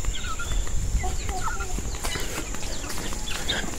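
Yard chickens clucking repeatedly in short, uneven bursts against a steady outdoor background, with several birds audible at moderate distance and a faint high whine running throughout.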